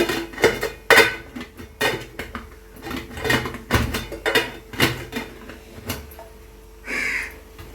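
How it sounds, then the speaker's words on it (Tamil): A steel idli plate clatters onto a steaming pot in a home kitchen as traditional kozhukattai is cooked, with several sharp metallic clanks and scrapes close by, loud and without speech. "இப்போ இட்லி தட்டை போட்டு மூடி வச்சிட்றேங்க"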